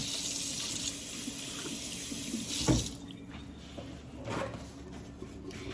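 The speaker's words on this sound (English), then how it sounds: "I'm washing my hands right now" A kitchen sink tap runs while hands are washed under it, a soft steady water hiss with a splashy clatter partway through, then quieter trickling, faint and close.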